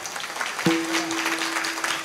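An audience claps together at a Marathi comedy kirtan by Indorikar Maharaj in Khed, Pune. Steady, dense applause runs throughout, with a sustained tone joining partway through.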